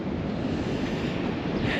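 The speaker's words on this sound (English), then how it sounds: "we're not going to be going for a swim because it is very windy" Strong wind buffets the microphone on a windy beach in Spain, a loud continuous roar blended with the wash of surf and no speech.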